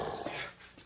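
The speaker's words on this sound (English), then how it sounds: "Not even a little girl dog like this." A small female dog gives a brief, low growl that turns into a whiny note, close and fairly quiet, lasting under a second.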